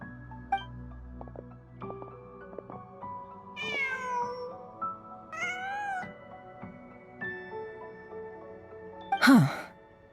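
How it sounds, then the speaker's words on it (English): Cat in Genshin Impact mewing and sighing in several drawn-out, wavering calls over a steady synthetic game music bed, ending in a louder sharp meow. "Just a cat."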